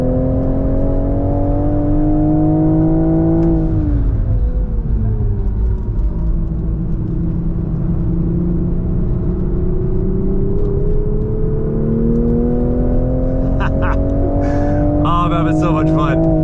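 A 2023 Toyota GR Supra 3.0 with a manual gearbox is driven hard on a race track, its engine loud and steady throughout, dipping as it brakes, then climbing again in a sustained rev with some rattling near the end.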